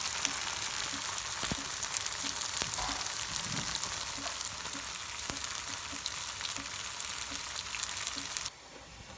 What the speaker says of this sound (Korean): 이거 두부 부쳐 먹으라고 그래서 지금 후라이팬을 준비했고요